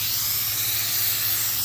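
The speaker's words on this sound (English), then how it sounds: "This is the Liquid Concepts activator. So we'll go ahead and spray 2 passes, one on the top, one on the bottom," Liquid Concepts activator is sprayed onto hydrographic film, producing a steady, close, loud hiss of aerosol spray with no pause.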